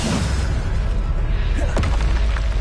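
A Bombarda spell explodes in Hogwarts Legacy with a loud, booming burst that rumbles low and sustained over a continuous roar of battle noise.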